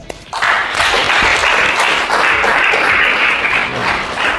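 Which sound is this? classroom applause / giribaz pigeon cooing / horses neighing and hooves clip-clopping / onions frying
classroom applause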